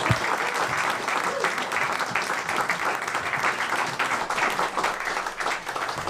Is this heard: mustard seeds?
no